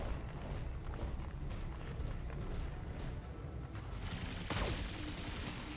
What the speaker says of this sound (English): now it's going to do its machine gun thing